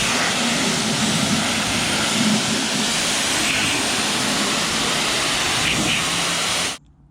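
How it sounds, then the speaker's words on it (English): A pressure washer sprays steadily along the side of a vehicle, a loud continuous hiss and roar that holds without a break for about seven seconds before cutting off abruptly. "So I'm going to get all this APC off, get it nice and pressure washed down"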